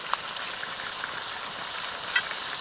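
Chopped tomato and Kashmiri chili powder fry in a pan for a chicken curry, making a soft, steady sizzle with a couple of faint clicks and no speech.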